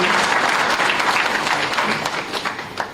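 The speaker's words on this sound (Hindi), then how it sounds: "एक बार जोरदार तालियों के माध्यम से माननीय मुख्यमंत्री जी का स्वागत अभिनंदन करें" Loud, dense applause from an audience at a government event welcoming the chief minister, a steady wash of many hands clapping that tapers slightly toward the end.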